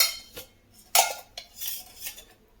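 A metal pan is set down on a stove for tempering: a few clattering metallic clinks and scrapes, one clearly louder knock near the middle, close and with no voices.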